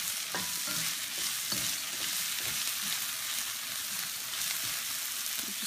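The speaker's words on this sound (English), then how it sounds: "I'm just gonna stir fry this on real high." Vegetables with celery and jicama stir-fried over high heat for a chow mein, a steady loud sizzle with repeated scraping stirs of a utensil, close and continuous with no voices.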